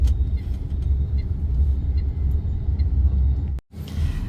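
Busy road traffic in Ho Chi Minh City, Vietnam: a steady, loud low rumble of passing cars and motorbikes, close by, with a brief dropout near the end.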